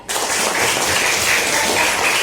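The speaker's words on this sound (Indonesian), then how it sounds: "Tepuk tangan untuk teman kalian." Classmates in a school classroom give a round of clapping for a fellow student, a dense steady patter that starts abruptly and holds loud for a couple of seconds with no talk over it.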